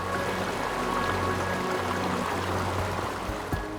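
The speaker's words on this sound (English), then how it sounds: "you can feel the raw power, thunderous sound, and vibrations of the crashing water from incredibly close range" A waterfall in Canada pours heavy crashing water at close range, a loud, dense and steady roar that continues without a break.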